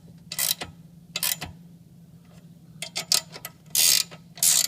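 A ratchet snugs a nut tight on a Can-Am Spyder highway bracket, giving a few quick runs of sharp clicking with brief gaps.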